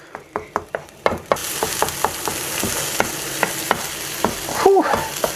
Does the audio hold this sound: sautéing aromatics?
yes